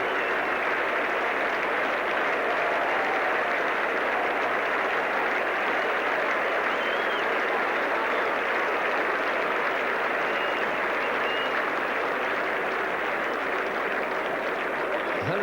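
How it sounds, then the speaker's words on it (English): A large cricket crowd at The Oval applauds batsman Alvin Kallicharran during the 1975 World Cup one-day match between Australia and West Indies: steady, dense clapping that holds throughout, heard from a distance with a broad, washy texture. "The Australians applauding, and the ground is rising to KALLICHARRAN."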